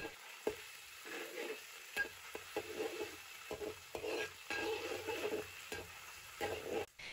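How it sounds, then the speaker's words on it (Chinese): Ginger and minced garlic stir-fry over high heat in hot oil in a wok, a soft continuous sizzle broken by scraping spatula strokes and clanks, with no talking. "油热我们下入姜、蒜末，大火煸炒出香味"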